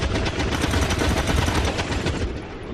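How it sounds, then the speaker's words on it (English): Sustained gunfire from overwatch shots during an ambush in the video game XCOM 2, a dense, loud, continuous burst of rapid shots lasting nearly three seconds with no speech. "We should get plenty of ambush Overwatch shots."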